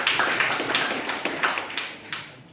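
Students clap their hands in a classroom, a scattered run of sharp claps spread over a couple of seconds at moderate distance. The claps thin out toward the end, with no talk.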